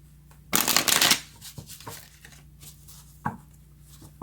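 A deck of tarot cards is shuffled close up, one brisk riffling burst lasting about half a second, followed by a few light taps and clicks as the cards are handled.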